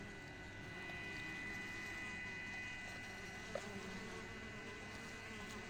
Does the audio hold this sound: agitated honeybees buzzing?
yes